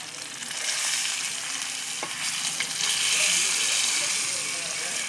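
River fish frying in a pan of oil make a loud, continuous sizzle and crackle with occasional stirring clicks, steady throughout.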